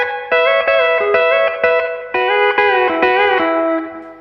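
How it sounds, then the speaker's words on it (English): A pedal steel guitar plays a short run of plucked notes and sliding chords through a Source Audio Collider reverb and delay pedal set to spring-type reverb. The notes sound loud and clear, each one leaving a gentle echoing tail. "hear that little bit of spring type reverb"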